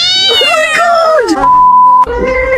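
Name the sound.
cat meowing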